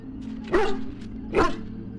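Dog barking in the video game Dragon Age Origins: two distinct, evenly spaced barks over a low steady ambient hum.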